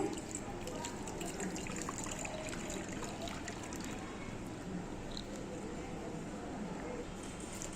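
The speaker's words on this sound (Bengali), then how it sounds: "এখন আমি একটা পাত্রে ঢেলে নিচ্ছি" Coconut pudding mixture made from blended green coconut flesh is poured into a bowl, a steady soft liquid trickle running continuously and close.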